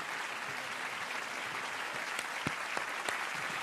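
Audience at a fiftieth-anniversary show applauds Jack Lang, a dense wash of clapping at moderate distance with a few sharper hits and faint voices toward the end.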